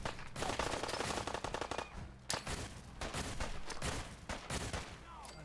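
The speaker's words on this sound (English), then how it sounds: "Are you shooting me through a wall too?" Rapid automatic gunfire from Fallout 4 with a combat mod, loud dense bursts of shots rattling almost continuously with brief gaps, close and alone without talk.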